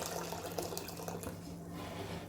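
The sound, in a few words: boiling water poured into a pan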